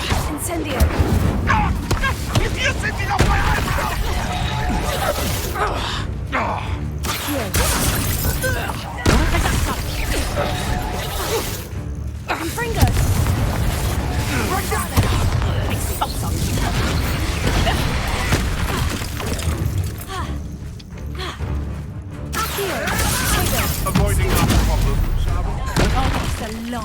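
Spell combat in Hogwarts Legacy, with Bombarda and Incendio casts: repeated booming blasts, crackles and impacts spread throughout, loud and busy, mixed with in-game voices and a talking player.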